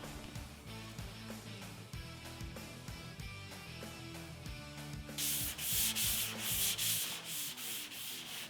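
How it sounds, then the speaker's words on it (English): Sandpaper of 80 grit scrubs a graphite guide coat off a bodywork panel in steady back-and-forth strokes, close and continuous, growing brighter and harsher in the last few seconds. "I'm going to sand this till it's off and repeat the process in 320"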